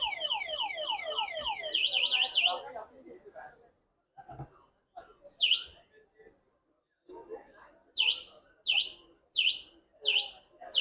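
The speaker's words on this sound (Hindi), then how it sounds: "स्कूटर को छेड़ेगा तो आपका जो स्कूटर है वो ऐसे अलार्म करने लगेगा, ऐसे आवाज करने लगेगा" A Royal electric scooter's anti-theft alarm is set off by touch, sounding loud, rapid chirping electronic sweeps. After a pause someone speaks briefly, and then the alarm returns as spaced chirp bursts.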